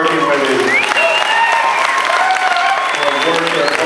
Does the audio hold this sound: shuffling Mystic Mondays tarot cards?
no